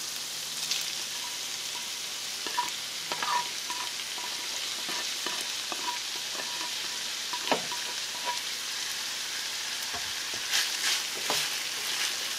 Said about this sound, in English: we're gonna leave this sauteing with the beef